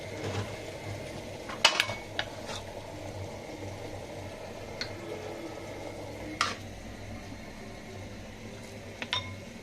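Cooked bottle gourd and prawn curry is served, with a few scattered spoon scrapes and dish clinks spread over a quiet kitchen backdrop.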